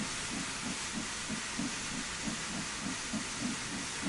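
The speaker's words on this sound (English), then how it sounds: "Steam has a habit of being quite noisy compared to some of the other stuff that we do" Steam locomotive in Train Sim World 2, steam trains to Brighton, giving a steady loud hiss with a regular low chuffing pulse about twice per second, no talk.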